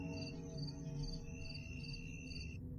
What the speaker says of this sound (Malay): Sunyi, cuma bunyi cengkerik aja yang kami dengar.